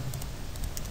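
Quiet keystrokes on a computer keyboard during terminal work, a few light, quick taps spread across a brief moment over a low room hum.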